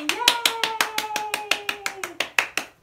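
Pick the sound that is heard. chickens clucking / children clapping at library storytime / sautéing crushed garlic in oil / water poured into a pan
children clapping at library storytime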